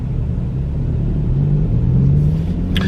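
A loud car nearby, its deep engine rumble steady and close with a rising drone as it passes, filling the scene with no talking.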